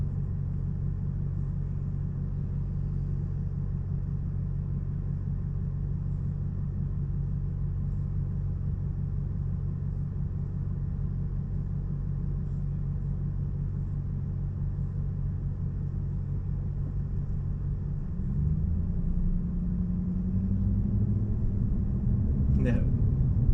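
Steady cabin rumble of a 2019 Toyota Corolla Hatchback on a test drive in traffic, low road and engine drone throughout, swelling slightly near the end as it picks up speed; a person talks over it.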